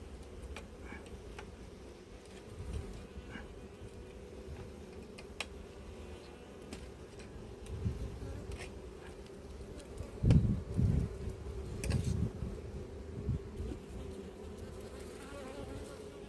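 Honey bees buzzing steadily around an open apiary hive while a queen excluder is being cleaned, a constant mid-level drone with occasional close bumps and handling knocks.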